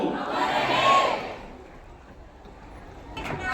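A crowd at a Das Dharma saint gathering bursts into a loud collective shout that peaks early and then fades out, with a brief voice heard near the end.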